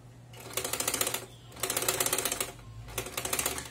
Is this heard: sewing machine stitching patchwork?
yes